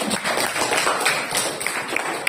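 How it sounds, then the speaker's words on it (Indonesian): Classroom applause from a group of students, a dense, steady patter of many hands clapping at once, fairly loud and continuous with no single claps standing out. "Tepuk tangan untuk kita."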